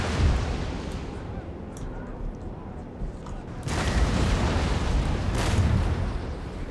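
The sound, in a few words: cannon artillery fire in Napoleon: Total War video game battle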